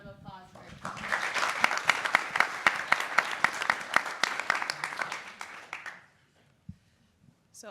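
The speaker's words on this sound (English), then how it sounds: "let's give them a round of applause for it" Audience applause at a codeathon pitch event, a crowd clapping for several seconds with sharp individual claps standing out, then fading away to near silence with a faint voice at the end.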